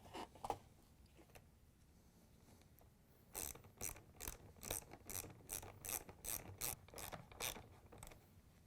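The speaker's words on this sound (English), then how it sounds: "Next, we can tighten down the clamps." Hose clamps being tightened on a GE dishwasher pump and motor assembly, starting with a few scattered clicks and then a run of about a dozen quick, evenly spaced ratcheting clicks, close and fairly quiet.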